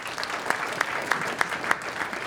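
An audience at a startup event at Atlanta Tech Village gives a round of applause, with steady dense clapping and a few sharp louder claps standing out near the front.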